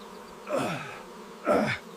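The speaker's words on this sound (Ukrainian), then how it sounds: "Та бджола за одне місце вкусила." Two separate buzzing passes of a bee, each swelling then fading within about a third of a second, flying close by, with quiet between.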